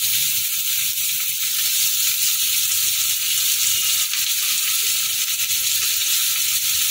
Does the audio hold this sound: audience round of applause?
no